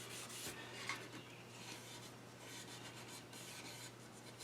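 Soft, continuous rasping of hand sanding over a shellac finish on a cherry wood spice box, steady back-and-forth strokes with a low hum underneath, fairly quiet and close.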